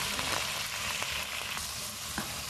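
Duck breast and copa sizzle and fry in a pan in a steady, close crackle, with a few soft stirring scrapes and no voices.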